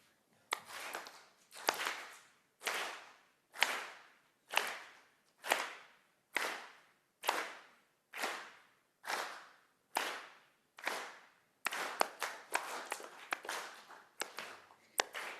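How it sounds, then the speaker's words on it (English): A church congregation at a Sunday service claps together in a steady, even beat, about a dozen evenly spaced claps with a slight speed-up and a looser burst at the end, fairly faint and with no voices. "I'm going to lead it off with just a simple clap. So if you'll clap with me."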